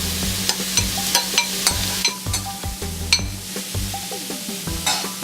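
Garlic and cauliflower rice sautéing in a hot pan, soft sizzling under repeated scrapes and clinks of a utensil stirring against the pan.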